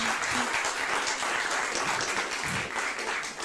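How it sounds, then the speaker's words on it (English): Audience applause for a moderator and organizer at the Europe Open Podium event in Amsterdam, continuous many-handed clapping at moderate level, dense and even with slight swells, no voices over it. "So give him an applause"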